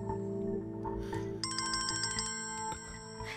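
A mobile phone ringtone plays as bright, repeating electronic tones, the melody clearly entering partway through over a steady tonal background.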